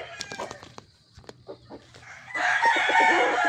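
A pure Boston Millionaire gamefowl rooster gives a few short clucks and calls, then breaks into a loud, close crow that holds through the last second.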